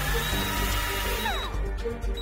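A surgical drill whirs in the video game Operate Now, a steady loud mechanical whine with a brief pitch sweep, over continuous game sound.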